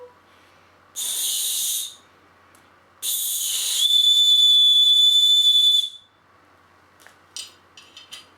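Breath blown across a pen cap gives a breathy hiss, then a longer blow that settles into a clear, steady high whistle lasting about two seconds, followed by faint scattered clicks.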